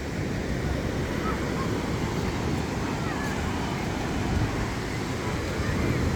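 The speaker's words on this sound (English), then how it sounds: "the waves are massive" Large ocean waves at a Gold Coast beach in Australia roar as a steady, loud wash of surf mixed with wind noise on the microphone, with no pauses throughout.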